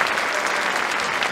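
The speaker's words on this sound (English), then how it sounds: "let's give them a big round of applause for all that they do" Dense, even applause from a school concert audience fills a brief moment, a steady wash of many hands clapping at once.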